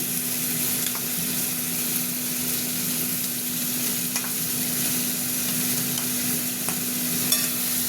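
Prawns frying in a pan for a potato and pointed gourd curry make a steady, close sizzle with scattered stirring clicks and light scrapes; no voices.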